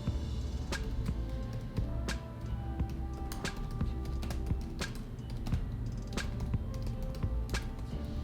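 Computer keyboard typing while entering expense receipt details, a quick irregular run of crisp near key clicks with brief pauses, heard alone without talk.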